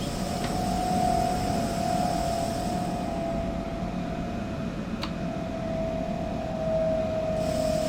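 Train braking to a stop in the rail simulator game SimRail: a steady, loud rumble with a sustained tonal whine running throughout, a brief sharp click near the middle, no voices.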